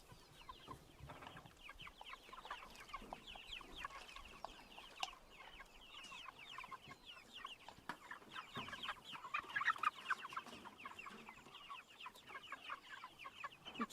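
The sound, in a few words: Cornish Cross broiler chickens clucking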